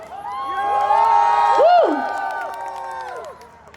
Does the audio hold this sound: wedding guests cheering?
yes